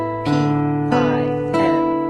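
A Cordoba nylon-string guitar picked fingerstyle in P-I-M triplets starting from the fifth string: three clear plucked note groups over a sustained bass, close and steady, with no talk.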